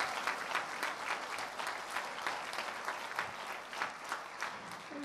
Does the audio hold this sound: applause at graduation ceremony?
yes